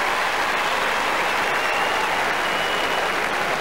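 A big stadium crowd at AAMI Stadium in Adelaide applauds and cheers during a 2006 AFL match between Adelaide and Carlton, a dense, sustained roar of clapping that stays loud throughout.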